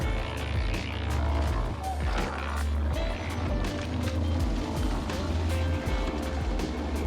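A tracked dumper fully loaded with concrete drives by a pond edge, its diesel engine a steady low chugging drone with rattling tracks and clanks, close and continuous.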